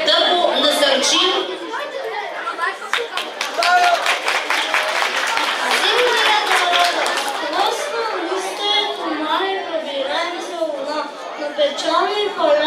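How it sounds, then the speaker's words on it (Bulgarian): Applause at a school Christmas celebration in Polski Trambesh, clapping rising in dense rapid bursts through the middle of the clip, then settling under lively crowd chatter and children's voices. "много му ръкопляскайте, да го насърчим"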